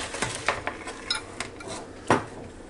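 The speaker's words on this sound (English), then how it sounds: "Get everything sort of stirred up together." A spoon stirring crispy fried onions into a green bean casserole mixture in a bowl, making soft scrapes and a few sharper clinks against the dish, nearby and with no talking.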